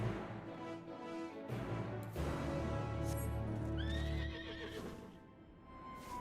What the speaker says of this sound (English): Six-legged horse.